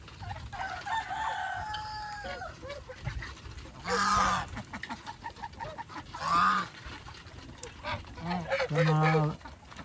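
Geese honk loudly on a Filipino farm, among penned ducks and turkeys. Three strong honking bursts stand out over continuous crowing and clucking fowl.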